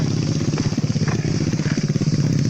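A motorcycle engine chugs and idles close by on a remote village track after an earthquake, its pulsing mid-range throb rising and falling without a break.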